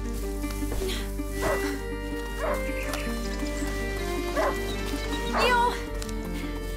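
A hunting dog in the video game A Plague Tale: Innocence barks and whimpers in several short yips spread across the clip, over a low constant game hum, with a voice calling out once.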